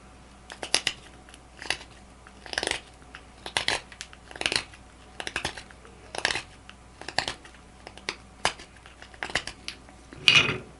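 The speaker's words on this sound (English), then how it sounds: "I'm going to whittle pork rib bone" A steel knife blade with a 10-degree edge scrapes and shaves a pork rib bone in a regular series of short, dry rasping strokes, close and fairly quiet, with brief pauses between each cut.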